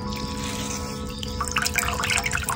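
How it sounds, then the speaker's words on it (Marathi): Cooked forest banana vegetable being squeezed by hand, with water steadily trickling and dripping off it; a continuous close wet patter that grows busier and more splashy toward the end. "पूर्ण जे पाणी असतं ते पाणी काढून टाकायचं"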